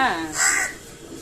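A crow caws near a person who is talking and offering it food, a harsh brief call overlapping a voice.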